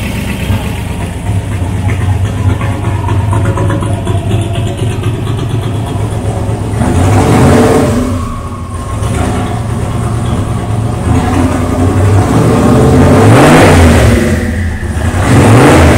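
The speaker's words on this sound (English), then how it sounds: "we're going to go ahead and get it running" Twin turbo LSX engine in a Buick idles loud and close, running rich with a steady rumble that swells into a couple of revs before settling again.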